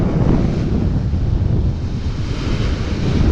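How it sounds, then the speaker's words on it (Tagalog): Steady wind buffeting the microphone over the low, continuous rush of modest sea waves at a fishing spot, loud and constant throughout. "hindi masyadong malaki yung alon dahil kahit mahangin"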